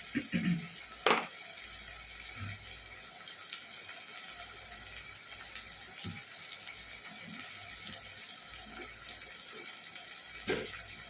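Tomatoes sautéing in a pan for prawn curry, a soft continuous sizzle with a few scraping stirs and occasional clatters, fairly quiet and without talk.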